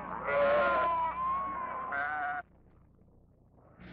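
Sheep bleat loudly and close at a loading corral, several overlapping wavering calls for over two seconds before dropping to faint background noise.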